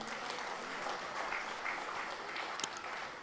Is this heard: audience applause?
yes